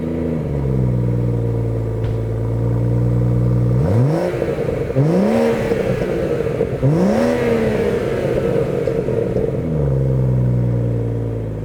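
A BMW M240i engine revs hard through rising sweeps, with upshift breaks between pulls, loud and close with a steady drone before and after; no talking.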